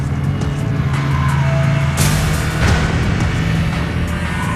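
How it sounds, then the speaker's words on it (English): High-powered snowmobiles racing in an Alaskan ski race, a loud continuous roar of engines close by with a few surging revs. "High-powered snow machines."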